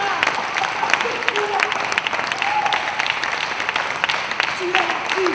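A crowd gives sustained applause with scattered cheers during a tribute event, clapping dense and continuous from start to finish while a voice carries on beneath it.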